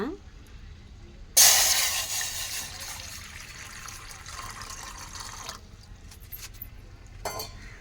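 Water gushes into a pot with a sudden loud splash that settles into a steady pour lasting several seconds, then stops, followed by a light clink.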